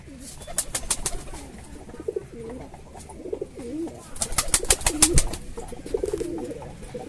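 A pair of Kalshera pigeons coo in bursts of throaty, rolling calls, close and fairly loud, over sharp flapping and scuffling noises that come and go.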